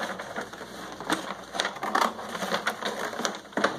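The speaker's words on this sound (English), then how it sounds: "So I'm going to cut this all the way around here." Scissors snip through a paper rocket nose cone being cut all the way around, giving a series of crisp, irregular cutting crunches close by with no talking.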